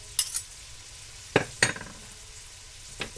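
Garlic cloves sizzling in a pot for a hamburger chili: a soft frying hiss underneath a few sharp clinks and scrapes of a utensil stirring against the pot, with no voices.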